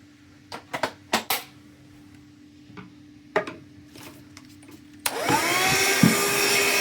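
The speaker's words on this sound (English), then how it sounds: "we're gonna pop a new battery in this vacuum" Several sharp clicks and knocks come as a battery is fitted into a battery-powered vacuum cleaner, then the motor kicks on with a loud steady whirring hiss that holds to the end.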